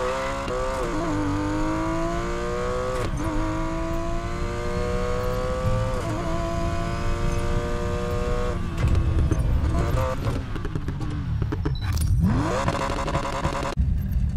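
A car accelerating at full throttle in the racing game Need For Speed Payback, its loud engine climbing through several gear shifts with rising pitch, then crackling backfires near the end.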